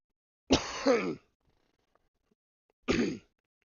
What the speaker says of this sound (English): Throat gets dry, I start coughing a lot more